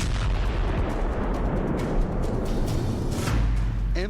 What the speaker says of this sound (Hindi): ये आप इन दिल दहला देने वाले धमाकों को देखकर समझ सकते हैं।